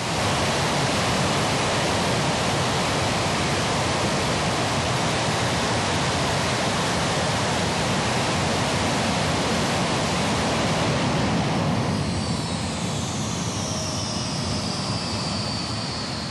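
A loud, steady jet engine roar held at full power during an engine test run-up, with a rising high-pitched whine coming through near the end as a fault develops.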